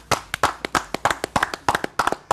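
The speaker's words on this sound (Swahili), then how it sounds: "Makofi tena tafadhali." Sparse, separate handclaps from a small group at an awards presentation, about a dozen crisp claps in an uneven rhythm, close and fairly loud, with no voices over them.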